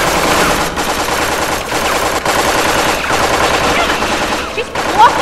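Rapid gunfire from the video game Tales From the Borderlands rattles in continuous automatic bursts, loud and close, with brief gaps, layered under game sounds and faint voices.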